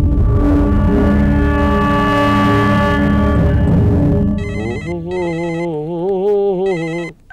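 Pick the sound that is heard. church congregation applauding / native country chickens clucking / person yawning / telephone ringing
telephone ringing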